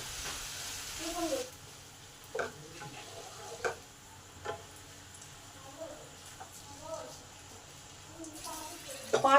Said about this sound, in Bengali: আলুটাকে ভালো করে নেড়ে নেব